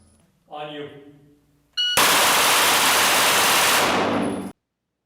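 A fully automatic Glock pistol fitted with a switch fires one long, continuous burst of rapid shots, loud and unbroken for a few seconds, after a brief voice.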